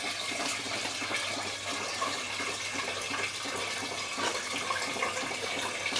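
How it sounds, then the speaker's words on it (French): Water runs continuously through a small stream on a scale model of a village with a hydraulic ram, a steady close trickling and splashing wash with no voices. "une petite rivière qui coule"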